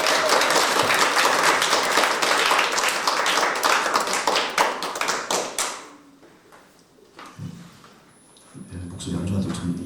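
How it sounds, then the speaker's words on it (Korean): An audience at an environmental concert claps enthusiastically, a dense burst of many hands for about five seconds that thins into scattered claps and fades, followed by quieter room sound and a voice. "있는 힘껏 박수를 치면 앞으로 100년 이상을 살 것 같은 예감이 들어요. 박수 한번 주세요."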